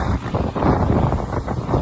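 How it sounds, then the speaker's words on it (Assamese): Cool morning wind at sunrise buffets the microphone on a road, with a gusty low rumble that surges and dips throughout. No voices are heard. "এতিয়া বতাহটো এনেকুৱা ফ্ৰেছ বতাহ"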